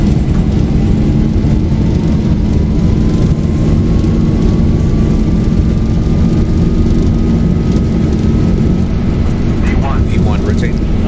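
Airliner jet engines at takeoff power during the takeoff roll in the X-Plane 12 flight simulator, a loud steady roar with a rising whine, with pilot voices talking over it.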